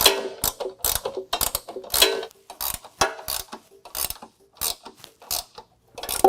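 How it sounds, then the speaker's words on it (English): A ratcheting wrench tightens bolts on a CURT Class 3 trailer hitch under a 2022 Toyota RAV4, a rapid series of sharp metallic clicks in short bursts with brief pauses, close and loud, no talking. "we'll go ahead and use our ratcheting wrench and we'll tighten it up"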